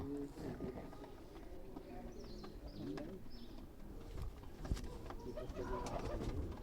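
Punjabi pigeons cooing in a loft, soft repeated low coos over a busy, faint background of rustling, wing movement and distant murmur.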